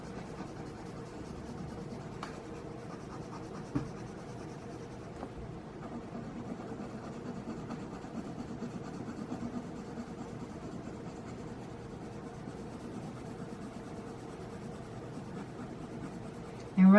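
Polychromos colored pencil strokes blend color on a colouring-book page, a soft steady scratchy rubbing that runs continuously at close range and low level, with no one talking.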